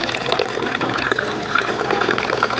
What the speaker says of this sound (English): always drop it high like this, because what you're doing is oxygenating the water in there.